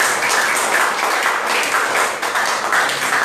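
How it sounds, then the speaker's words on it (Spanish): A church congregation applauding on a Sunday morning, a steady, dense wash of clapping from many hands that stays even and fairly loud throughout. "le doy un aplauso al Rey esta mañana"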